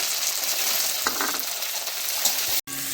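Tomato pieces dropped into frying onions in a pan, giving a steady loud sizzle with a few stirring scrapes, ending in a brief cut before the frying resumes.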